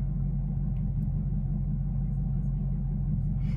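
A 2017 Chevrolet Camaro ZL1 with an LT4 V8 and a ported throttle body idles after a cold start. It makes a steady, low, even rumble close by with no change in pace.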